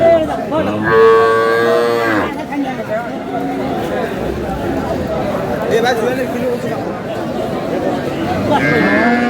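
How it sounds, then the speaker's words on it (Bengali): A cow with her calf at a busy cattle market gives a loud, drawn-out moo near the start and another toward the end, over crowd chatter and talking voices. "গাভী বাছুর।"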